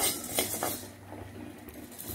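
Coriander, cinnamon, cloves and other spices are dry-roasted in a pan, with quiet metallic clinks and scrapes of a utensil stirring them, faint and close.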